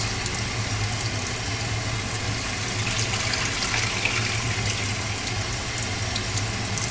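A steady, continuous rush of water pouring into a container to submerge paper, like liquid from a tap, fills the whole stretch without pause.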